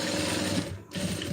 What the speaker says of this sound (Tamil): ஷோல்டருக்கு வந்து 2 தையல் ஓட்டிடணும்